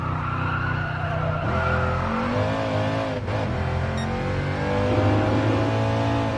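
A race car in Gran Turismo Sport revs hard with shifting engine pitch while its tyres squeal and skid through corners, loud and continuous with no talking.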